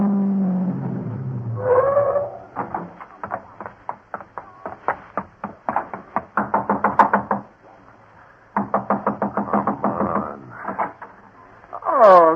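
A car racing sound effect in an old-time radio drama: an engine roars and revs in pulsing, rising bursts, breaking off briefly and then surging again, with a squeal near the end.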